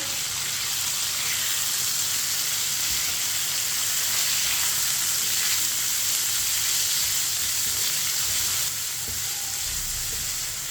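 Small boneless chicken pieces sizzle steadily in a pan as they are stirred with a spoon, giving a loud, continuous frying hiss with occasional soft scrapes and no voices.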